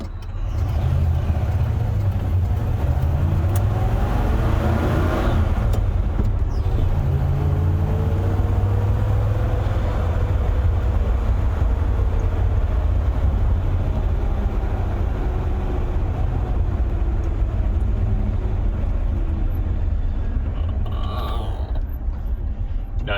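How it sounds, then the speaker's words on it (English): Holden Kingswood driving with a squeaky cable clutch, steady low engine and road rumble throughout with intermittent high creaking squeaks over it. "Nice squeaky clutch. Yeah, it is so squeaky."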